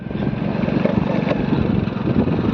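A motorcycle engine drones steadily and fairly loud, a buzzing mid-pitched putter that holds at a constant level.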